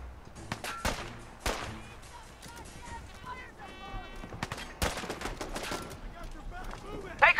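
Scattered gunshots in the video game Fallout 4, with sharp cracks and short bursts spaced irregularly amid game sounds and chatter.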